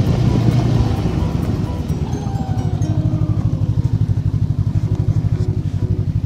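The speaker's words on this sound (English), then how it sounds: "So this is my snowmobile. And I'll go forward a little bit." Snowmobile pulling forward through snowy woods while it is snowing, its engine loud and close, with a steady pulsing drone and a lower, rhythmic throb once underway.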